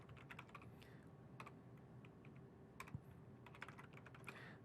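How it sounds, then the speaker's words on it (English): Soft, quick keystrokes tap out a password on a computer keyboard, a brief uneven patter of clicks at low volume with a faint steady background hum. "which means I'm actually typing it in."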